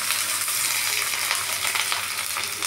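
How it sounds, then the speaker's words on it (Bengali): Chopped onion hits hot oil and fries with a loud, steady, even hiss of sizzling close by, with no voices. "এবার আমি তেলের মধ্যে দিয়ে দিচ্ছি কুচনো পেঁয়াজটা"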